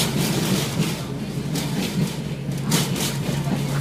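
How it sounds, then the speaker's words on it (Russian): A tram rumbles along in a steady, low, continuous drone heard from inside the car, with faint thumps and rattles. "Вот, мы едем в трамвай."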